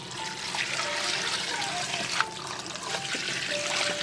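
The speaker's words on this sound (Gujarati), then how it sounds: "હવે નાખવાનું પાણી" Water pours into a cooking pot in a steady rushing stream with trickling and splashing, close by and continuous throughout.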